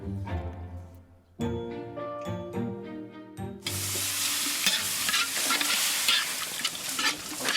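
Beef is lightly stir-fried in a pan, a loud, dense sizzle with scraping stirring that bursts in after a few seconds of plucked musical notes and carries on steadily.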